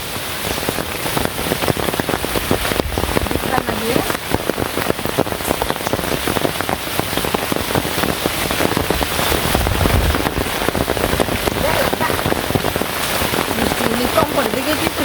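Heavy rain pours down continuously in a village, a dense, loud patter on the ground and surfaces that holds steady throughout.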